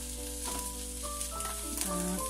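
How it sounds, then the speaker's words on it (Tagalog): Chinese cabbage sautéing in a pan for pancit, a steady sizzle with soft stirring scrapes running throughout, close and moderately loud, no voices. "i-saute lang natin siya ng konti para medyo ma-half cook lang po"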